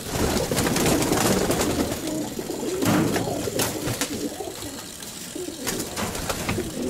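Pigeons coo softly and repeatedly in a loft, with a female Romanian pigeon among them, the low murmuring calls overlapping against a steady background with rustling.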